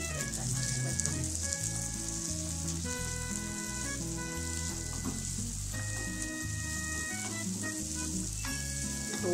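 Sweet corn fries in a pan with a steady, even hiss of sizzling oil, set under background music throughout.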